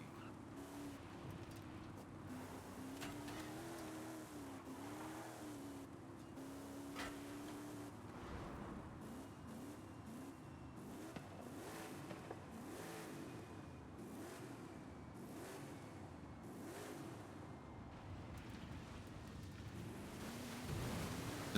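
Car engines in the racing game Forza Horizon 5 drone steadily with shifting revs, an even, continuous motor tone running the whole time with no talk over it.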